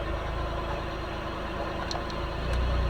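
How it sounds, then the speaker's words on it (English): A Mazda Miata engine idles steadily, its low rumble shifting slightly in pitch as the revs change with the air-conditioning compressor cycling, with a faint rise near the end. "I heard a change in engine RPM."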